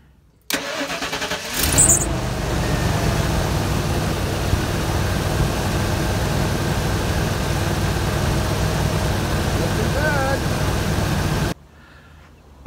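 A Ford F53 chassis engine cranks briefly and catches, then settles into a steady, loud, close rumble at idle that runs for about ten seconds before cutting off abruptly.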